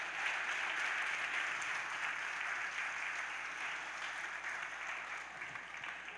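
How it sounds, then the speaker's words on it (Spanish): Congregation applauding in a church service, a steady wash of many hands clapping at moderate distance, even and sustained, slowly easing in level, with no talk over it. "Denle un fuerte aplauso al Señor."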